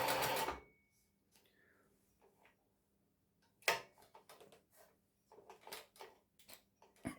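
A Singer 20U sewing machine stitches a wide zigzag in short bursts of rapid ticking and clattering, with pauses and an isolated scrape between runs.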